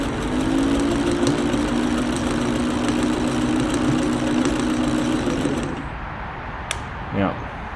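Motor of a White rotary sewing machine running with a steady mechanical hum, then cutting off near the end, followed by a brief clunk.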